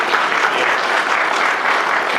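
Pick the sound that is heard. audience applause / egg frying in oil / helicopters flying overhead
audience applause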